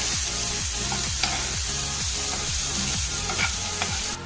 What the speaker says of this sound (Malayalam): ചെറുതായിട്ട് അരിഞ്ഞു വെച്ചിരിക്കുന്ന സവാള ചേർത്ത് കൊടുക്കാം. നന്നായി ഒന്ന് വഴറ്റിയെടുക്കാം